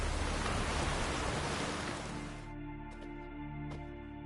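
Steady rain hisses loudly in a video game, then cuts off abruptly halfway through and leaves a quieter tonal game ambience with a couple of faint clicks.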